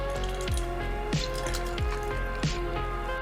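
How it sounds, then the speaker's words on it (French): A whole lemon squeezed by hand for cocktail juice gives a few soft, wet squelches and drips, spaced about every half second over a steady close background. "on le presse dans la main pour avoir plus de jus"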